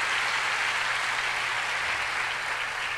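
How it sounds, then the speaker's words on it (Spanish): A steady wash of applause from a church congregation during a sermon, moderately loud and unbroken, with a low hum beneath. "Denle ese aplauso a nuestro Dios"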